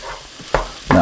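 A butter and flour mixture cooks down in a pot for New England clam chowder, with a soft sizzle and two or three brief stirring scrapes close by, no talk.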